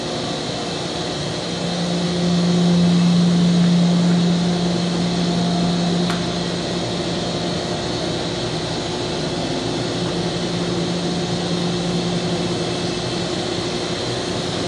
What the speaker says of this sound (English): This unit is powered by four-cylinder Detroit diesel.